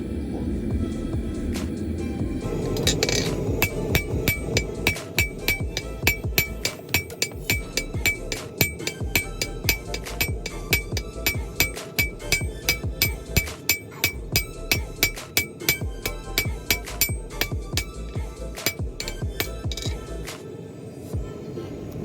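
A reforged Harbor Freight rounding hammer strikes hot metal on an anvil in a steady run of sharp, ringing blows, close and loud over a low forge roar, with the clanging continuing rhythmically throughout.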